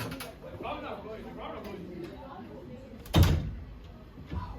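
A single loud door bang in heavy wind near the end, sharp and close, after a stretch of low muffled noise and faint bird-like cooing in the background.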